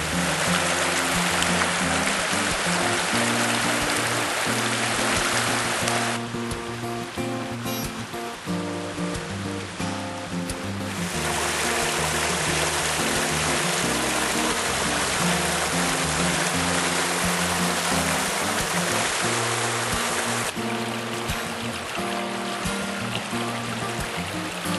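A big creek flows near a campsite in the Smoky Mountains, a steady, full rushing of water that fills the whole stretch, loud and unbroken from start to end, with no voices.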